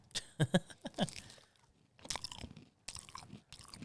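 Someone eats McDonald's food close to the microphone, with soft crunching bites and wet chewing in irregular bursts separated by short pauses, quiet and intimate.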